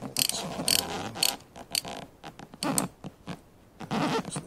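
Ratchet clicking in quick bursts while loosening the pinch bolts on a Royal Enfield Continental GT 650 fork, close and crisp, with short pauses between strokes and no talk.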